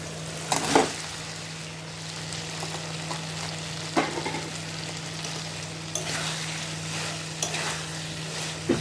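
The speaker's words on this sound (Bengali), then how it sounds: "মশলাগুলো ভাজা হচ্ছে" Ground spices frying in oil in a pan before potatoes go in, a soft continuous sizzle broken by occasional scrapes and clinks of a spoon stirring against the pan.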